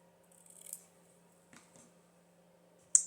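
Scissors snip through a length of gold Christmas ribbon, cutting it in half: a few crisp, close snips spread across a quiet room, with one sharp, loud cut at the end.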